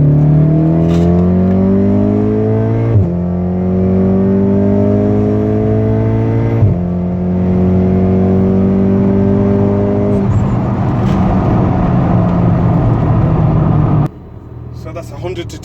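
A Stage 3 MK7.5 Golf R with an NVM460G turbo accelerates hard from inside the cabin, its engine note climbing steadily through three gear changes marked by sharp pitch drops, loud and sustained before cutting off at the end.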